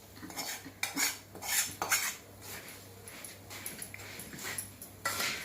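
A metal spoon stirs a spiced puffed rice mixture in a bowl with repeated clinking and scraping strokes. A low steady hum runs underneath and no one speaks.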